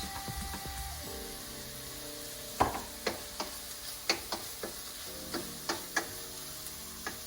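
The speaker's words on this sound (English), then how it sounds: "Now as this is sauteing, I'm going to put the ground mixture of ginger, garlic, green chili and mint into it." Ground ginger, garlic, green chili and mint paste sautéing in a pan with a steady close sizzle, punctuated by a run of sharp scraping and tapping strokes from stirring.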